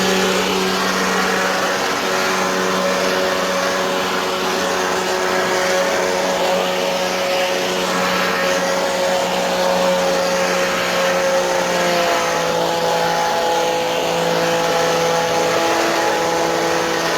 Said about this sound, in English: Here's my Ryobi blower.